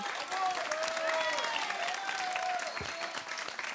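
Continuous audience applause in a television studio, a thick, even wash of clapping heard somewhat distant, with faint voices or cheering mixed in.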